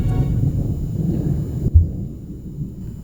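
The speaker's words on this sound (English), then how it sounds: "Really big thunder right there." Big thunder rumbling from an approaching storm, a deep sustained roll with one louder crack midway before it fades into a lingering low rumble.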